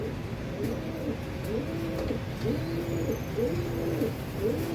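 Racing pigeons being readied for a derby coo in a repeated, rolling pattern, several soft throaty calls overlapping close by against a low background hum.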